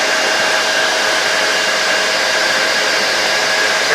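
Weightshift microlight aircraft engine and propeller at 5,150 RPM in level cruise, a loud, continuous, steady buzzing drone with a faint whine on top, heard close and alone.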